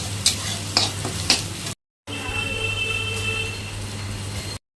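Onions frying in a pan with Kashmiri chili powder added, a close steady sizzle with a few scraping stirs early on, a brief silent cut, then continued sizzling, no talking.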